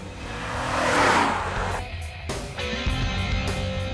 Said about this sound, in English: Every time you downshift, it will match revs and then it will create a sound as if it's bursting a series of crackers in the exhaust system